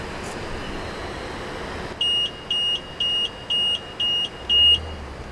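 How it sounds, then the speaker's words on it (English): A BMW M240i car alarm coded to the Great Britain/Europe setting gives six evenly spaced electronic beeps, near and moderately loud, over a steady low background hiss. "the Great Britain and the Europe one will sound like this"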